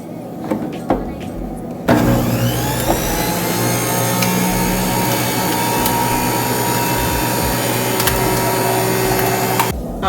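A Tescook juicer motor runs steadily while apples are fed in, a loud continuous mechanical whine and grinding that kicks in after about two seconds of quieter handling noise and holds through to the end.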